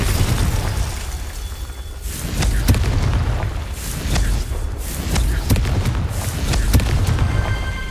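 Repeated booming blasts of the Confringo fire spell in the Hogwarts Legacy video game, loud and dense, with several sharp explosive bursts over continuous rumbling combat noise.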